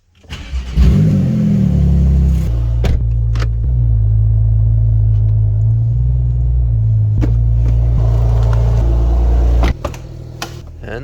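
A Porsche sports car engine starts with a rising rev, then settles into a loud, steady low rumble close by, ending with a brief blip.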